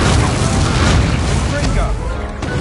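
A loud, booming fire-spell blast from the Hogwarts Legacy video game erupts with a broad crackling roar that stays dense for the whole moment, then thins slightly toward the end.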